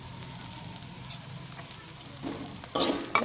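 Semolina, already roasted, is tipped into a pan for a spicy vegetable suji and stirred, giving a faint low sizzle that breaks into louder scraping, stirring bursts near the end.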